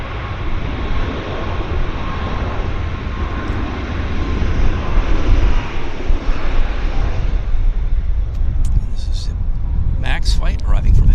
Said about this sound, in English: Flight arriving from Halifax, Nova Scotia. Long flight.